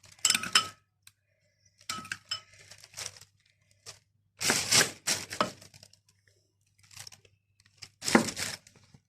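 A metal spoon presses and scrapes over oven-roasted peppers in a dish of pickled eggplant and pepper, giving several short close bursts of soft crinkling, tapping and light clinks separated by quiet pauses, with no talking.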